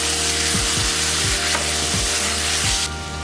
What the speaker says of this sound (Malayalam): നമുക്ക് പിഴിഞ്ഞ് വെച്ച പുളിവെള്ളം ഒഴിച്ച് കൊടുക്കാം